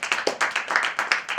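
Audience applause at a Hindi business presentation, a rapid burst of many hands clapping close and loud for over a second, with no talk over it.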